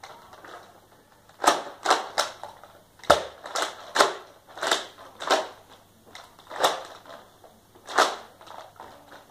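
Nerf blaster firing, about a dozen sharp, snappy shots spaced irregularly over several seconds, close and fairly crisp against a quiet background.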